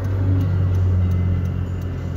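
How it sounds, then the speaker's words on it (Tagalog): Steady road traffic with many vehicles passing nearby, a continuous low engine rumble and hum from cars rolling by without pause, heard from close to the street. "Oh, maraming sasakyan, no?"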